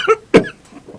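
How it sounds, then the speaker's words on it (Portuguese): A single sharp cough rings out close and loud, with a softer throat noise just before it and quiet breathy sounds trailing after, and no talking. "eu começo a tossir"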